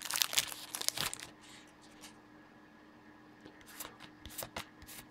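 A Magic: The Gathering Gatecrash booster pack, a Friday Night Magic prize, is torn open and its foil wrapper crinkles close by in a loud burst, then softer rustling and crackling follows as the cards are handled.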